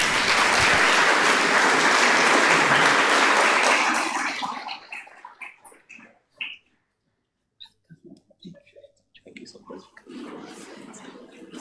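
Audience applause at a university career fair welcomes the chief guest, loud and dense for about four seconds before it breaks off into scattered handling noises and faint talk.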